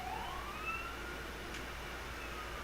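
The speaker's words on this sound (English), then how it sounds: "there's a siren outside my apartment" A siren outside an apartment wails faintly in the distance, its rising tone carried over a steady low hum of background noise.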